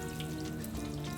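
Thin-batter chicken wings deep frying in hot oil give a steady, dense sizzle and bubbling close by, continuous and even throughout without talk.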